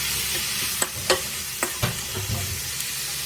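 Meat with tomato and chillies sizzles in a pan as a spoon stirs it, with several distinct scraping knocks spaced irregularly over a constant frying hiss.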